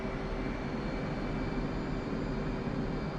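An F/A-18 Hornet jet engine at middle power in the DCS World video game, a steady, loud, continuous roar and whine with a constant tone and no change across the clip.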